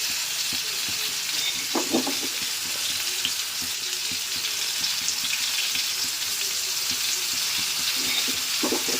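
Brinjal pieces frying in oil in a pan for a South Indian poriyal, a continuous close sizzle with occasional scraping and stirring clatters, no talking.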